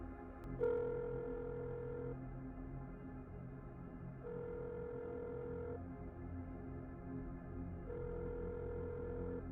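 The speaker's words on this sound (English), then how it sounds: "The muffled ringing coming from the drawer under the sink." A phone ringing from inside a drawer under a sink, a muffled electronic tone sounding in three spaced repeating rings over a low background hum, with no talking.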